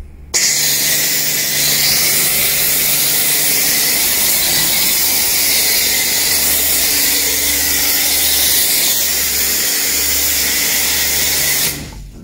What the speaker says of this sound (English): I will start with the foam lance and do the sort of light duty degreaser.